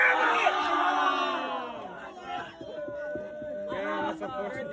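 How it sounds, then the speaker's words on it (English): Crowd roaring and cheering at an SPGA golf tournament, a loud sustained swell of voices and shouts that builds near the start, dips, then rises again as the reaction carries on. "if he makes it, the crowd goes crazy"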